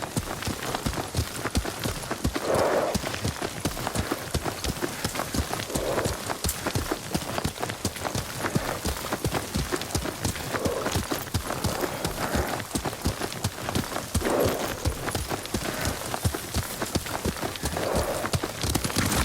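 Rapid, continuous hoofbeats of a galloping horse in Ghost of Tsushima, loud and steady throughout, with faint rustling underneath.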